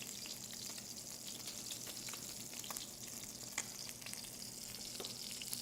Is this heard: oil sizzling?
yes